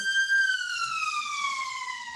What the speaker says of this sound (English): there's another siren, something's going on around here today